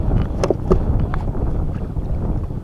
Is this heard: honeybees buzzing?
no